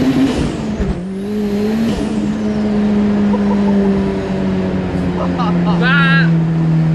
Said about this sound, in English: Just another first gear pull.